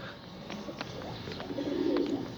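Pigeons coo softly on a rooftop with pigeon lofts, a few low, muffled calls repeating over a steady background hum.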